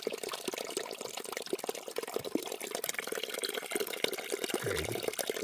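Water trickles steadily down a rock beside an Appalachian Trail path in the Great Smoky Mountains, North Carolina, a close, continuous splashing and dribbling with no voices.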